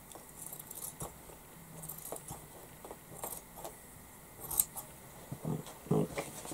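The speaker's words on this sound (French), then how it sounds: "Et je vais découper la partie noire deux fois." Scissors cut the black fabric piece for a plush toy being restored, giving scattered quiet snips and rustles at close range, with a couple of sharper clicks near the end.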